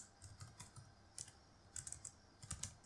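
Keys clatter on a computer keyboard as code is typed for a C++ programming lesson, an uneven run of light, close clicks with short pauses between bursts, no voice over it.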